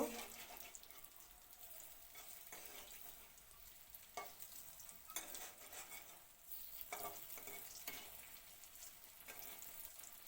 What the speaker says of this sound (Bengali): ভালো করে বড়াগুলি ভাজা হইব